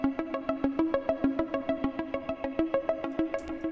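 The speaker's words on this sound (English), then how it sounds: "I created a really tense ARP melody that sounds like this." A tense synth arpeggio in a minor key, a quick, steady pulse of plucky repeated notes cycling through a short pattern, played alone and clearly for a few seconds.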